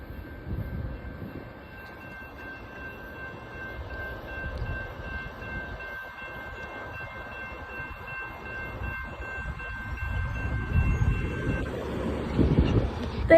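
A Union Pacific local switching train, locomotive 1090, approaches the Peltier Road railroad crossing in Thornton, California, as a steady crossing tone rings over a low rolling rumble that grows louder and closer toward the end.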